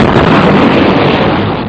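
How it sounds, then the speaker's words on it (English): A sonic boom from a supersonic aircraft: a loud, broad, sustained rumbling blast that fills the whole clip without any clear decay, alone with no talk. "Aircraft actually usually produce two booms."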